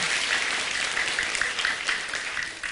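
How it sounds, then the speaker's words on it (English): Enthusiastic round of applause from a live audience at a motivational talk, thick continuous clapping at close range that tapers slightly near the end. "Everybody give yourself a round of applause."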